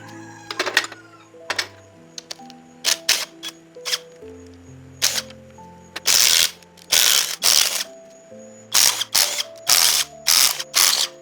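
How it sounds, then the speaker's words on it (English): Ratchet loosening cylinder head bolts on a Daewoo Cielo engine, close sharp clicking bursts in repeated strokes with short pauses between them, over quiet background music. "The cylinder head bolts are loosened in the reverse tightening sequence."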